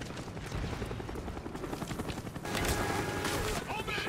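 Helicopter rotor thudding in the Call of Duty: Black Ops video game, a continuous chopping drone mixed with bursts of gunfire that get louder partway through.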